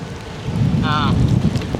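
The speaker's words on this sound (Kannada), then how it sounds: "ಹಿಂಗೇನೆ ಮಳೆ" Steady rain patters on surfaces close by, with a brief whistling tone and a faint voice partway through.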